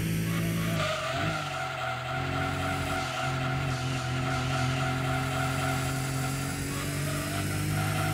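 Toyota Supra in Gran Turismo 2 on PlayStation, a loud, constant engine drone with a sustained tire squeal as the car slides and skids, shifting pitch through the corner.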